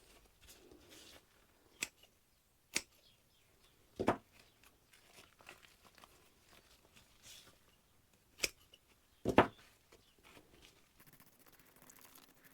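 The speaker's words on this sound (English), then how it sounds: "I'm cutting these little bits off because they're not really going to help the plant." Scissors or a knife cutting rotten bits off dahlia tubers, with sparse, crisp snips spread across a quiet room, two of them heavier and crunchier.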